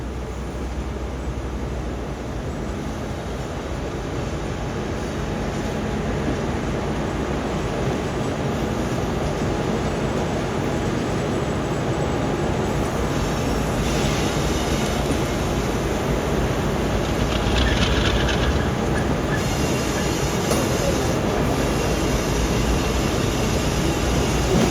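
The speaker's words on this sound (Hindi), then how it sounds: "तो फाइनली हमारी ट्रेन अपने ट्रैक पर यानी कि डाउन लाइन पर आ रही है।" Steady heavy rumble of a train rolling along the down line track on the Allama Iqbal Express route in Pakistan, continuous and loud throughout with faint higher metallic rattles, no voices.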